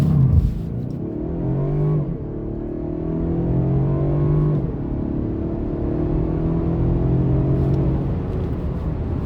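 A 2017 Opel Insignia 2.0 DI 4x4 with a 260 hp four-cylinder petrol engine accelerating hard, a loud steady engine drone rising in pitch through repeated gear changes, heard from inside the car.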